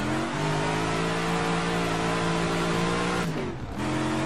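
A V8 engine of an AC 427 Shelby Cobra in the racing video game rFactor 2 roars steadily at high revs, then briefly drops and recovers as gears shift, loud and up close.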